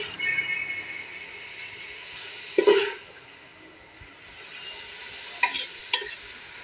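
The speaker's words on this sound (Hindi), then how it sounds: "वो मैंने इसमें ऐड कर दिए और हल्का हल्का सा इसको फ्राई कर लें।" Medium onions fry softly in a pan for an aloo keema dish, a low steady sizzle broken by a few scraping stirs of a spoon, close and without talk.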